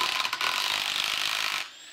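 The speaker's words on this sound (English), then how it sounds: "And now we tighten it down and whatever the actual torque spec is," A ratchet tightens a nut on a 31-spline differential in a 28-spline Ford 9-inch housing, a loud, close, rapid clicking and grinding burst that stops abruptly near the end.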